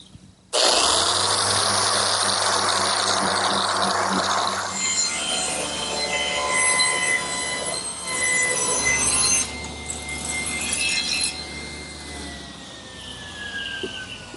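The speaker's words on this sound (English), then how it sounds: "Now I've switched to my random orbit sander. I'm starting with an 80 grit" A random orbit sander fitted with 80 grit paper works across a wooden butcher block, a loud, close whine that starts abruptly and holds steady, with its pitch shifting slightly as pressure on the surface changes.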